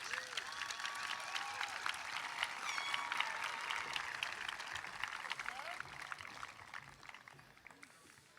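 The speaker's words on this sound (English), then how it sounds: "Let's recognize these graduates with your applause." A crowd at a college commencement claps in a continuous, even wash of applause for graduates, heard from a distance, with a voice faintly audible through it.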